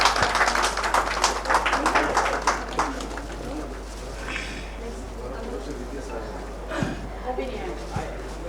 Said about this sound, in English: Give a big round of applause for the sir.